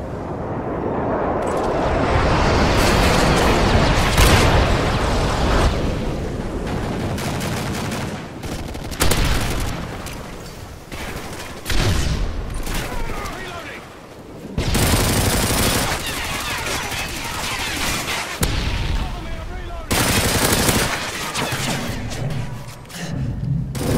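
Call of Duty MW3 bombing run: a long roaring barrage of heavy explosions and gunfire, loud and dense, with brief lulls between bursts and faint voices underneath.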